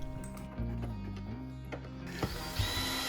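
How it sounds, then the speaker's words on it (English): An electric drill, not an impact driver, drives screws into a cabinet door, with short ratcheting whirs and clicks of the bit over a steady low hum and a couple of sharper knocks. "Now I'm using an electric drill, not an impact driver"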